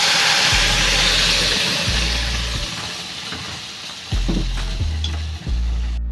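Spinach mixture with turmeric poured into a hot oil tempering for palak bhaji, loud sizzling and frying with repeated scraping stir strokes and low thumps close up, no talking.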